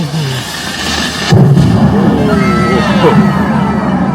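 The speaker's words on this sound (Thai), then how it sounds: "มายิงปืนใหญ่" A single booming cannon blast at Tokyo DisneySea amusement park cuts through a noisy outdoor crowd, with voices chattering and calling before and after the shot.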